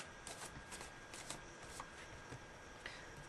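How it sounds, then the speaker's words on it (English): Romance angel oracle cards being shuffled in a steady run of soft, papery riffles and slides, close and fairly quiet, with no voice over them. "Let me throw you guys a couple of romance angel cards."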